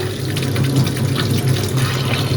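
Fresh coriander is rinsed under a running kitchen tap, giving a steady, close rush and splatter of water that holds without a break and with no voices.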